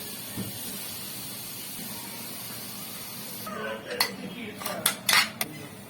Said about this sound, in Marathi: मसाले आपण टाकलेले आहेत. मीठ टाकूया. किमा टाकूया.